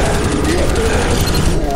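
Rapid gunfire aimed at the Tank in Left 4 Dead 2, a dense continuous rattle of shots with game noise beneath, close and loud across the short stretch.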